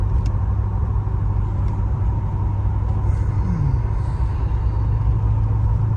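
A 1987 Chevrolet Monte Carlo SS with low original mileage cruises along, its engine giving a steady, low, even rumble with road noise from inside the car and no voices.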